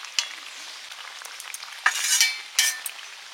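Tengra fish frying in a hot pan, a steady crackling sizzle with sharper bursts of spitting as the fish hit the oil, plus a light clink of utensils; close and fairly loud, with no talking.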